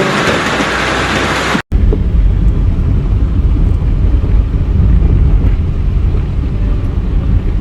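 Steady heavy rain, a loud, dense wash of noise that runs without a break after a brief cut near the start, with rumbling wind buffeting the microphone and no voices.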